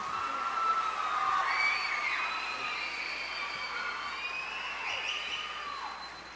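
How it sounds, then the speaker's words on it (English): An audience at the Edcouch-Elsa Mariachi 2024 winter concert cheers and applauds the JV mariachi, with a steady wash of crowd noise, whistles and shouts holding for several seconds. "So give him one last round of applause for JV."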